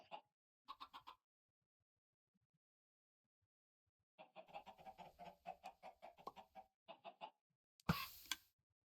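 Minecraft chickens cluck in several short, quiet bursts separated by silence, followed by one louder, harsher squawk near the end.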